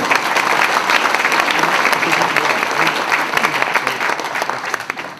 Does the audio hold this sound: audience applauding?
yes